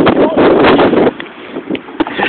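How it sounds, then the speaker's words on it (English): Strong wind buffets the microphone outdoors in a loud, rough rush that eases after about a second into gusty rumbling, with a voice briefly heard. "It's a bit windy, bro."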